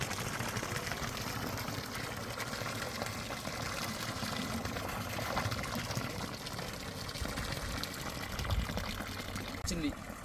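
Borewell water from a newly installed motor gushes hard out of a pipe, a steady loud pouring rush with a faint engine hum underneath, continuous throughout.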